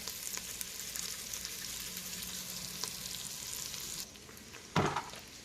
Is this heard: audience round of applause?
no